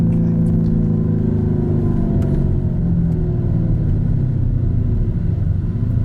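A Lamborghini Urus SUV engine pulls hard under acceleration with a loud, steady low rumble that rises through a gear as it shifts slightly late, heard from inside the cabin without voices.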